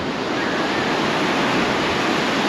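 Ocean surf rolls in at low tide on Old Orchard Beach, Maine, a loud, unbroken roar of breaking waves close by, mixed with wind buffeting the microphone.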